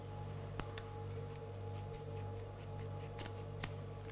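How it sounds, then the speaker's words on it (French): Scissors snip off excess fabric from old holed tights, a few crisp separate cuts spaced over several seconds against a steady hum in a quiet room. "Donc on coupe l'excédent, hop, là, ici."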